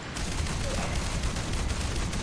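Gunfire in the War Thunder air combat game, with dense sustained bursts of rapid shots forming a loud continuous rattle and no talking.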